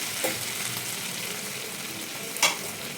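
Sliced bitter gourd fries softly in an open pan with a steady low sizzle, near and even, with a single brief clink or stir partway through and no voices.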